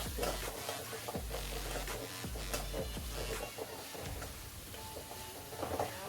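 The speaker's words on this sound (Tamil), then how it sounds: "சேர்த்து இதை கொஞ்சம் நேரம் நல்லா கிளறி விட்டுக்கலாம்" Jaggery being stirred into mango pachadi in a pan, a spoon scraping and clacking against the pan in a loose repeating rhythm over a soft simmering hiss, close and fairly quiet, with no talking.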